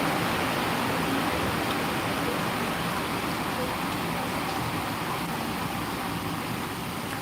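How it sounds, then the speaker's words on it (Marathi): Heavy rain pours steadily onto metal sheet roofs, a dense even hiss of downpour filling the whole clip without a break. "पाऊस खूप मोठ्याने पडतो सकाळपासूनच पडतो खूप जोरात चालू आहे"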